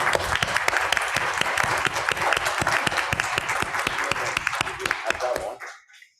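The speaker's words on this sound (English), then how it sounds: "give a round of applause to our panelists" An audience gives a round of applause for the panelists of an arts and business discussion. Dense, steady clapping fills the room and then quickly fades to silence.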